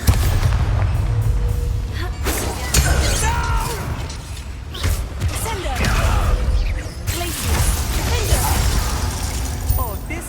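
A Bombarda spell explosion in the video game Hogwarts Legacy lands amid loud combat: booms, shattering bursts and clattering impacts in quick succession, with voices talking throughout.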